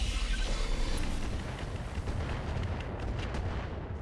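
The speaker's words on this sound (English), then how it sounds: "we're going to fire on the Atlas III" Mech weapons firing at an Atlas III in the RogueTech game, heard as a sustained, heavy rumble of booming shots and blasts that eases slightly toward the end, loud and with no voices.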